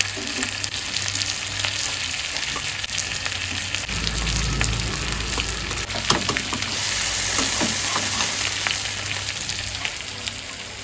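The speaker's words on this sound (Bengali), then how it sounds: "দেখি পাবদা মাছটা তোলার মতন হয়েছে নিচে একবার উল্টাই দিছি আর গ্যাস নর্মালেই আছে" Pabda fish frying in a pan on a gas flame, a steady broadband sizzle running throughout with small crackles and a brief low rumble partway through, close and fairly loud, no voices.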